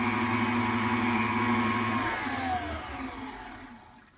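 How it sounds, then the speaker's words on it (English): A homemade-pasta machine running its fettuccine cutter at speed 5 gives a steady motorized whine with a strong tonal hum, holding level and then trailing off and dropping slightly in pitch toward the end. "this is going to be on speed 5 for the fettuccine cutter"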